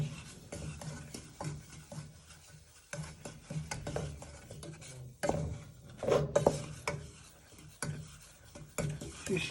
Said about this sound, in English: Just stirring it for a minute or 2. So it all melts in with the butter and sugar.